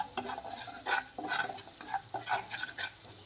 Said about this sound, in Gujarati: અને સારી રીતે બધું જ આમાં મિક્સ કરશું.